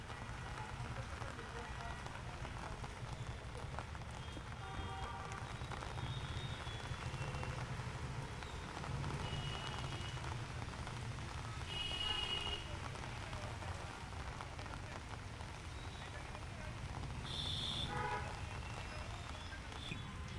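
Steady rain falling and pattering on surfaces in a street during monsoon rains in Jaipur, a constant hiss throughout with voices talking nearby and occasional faint clinks.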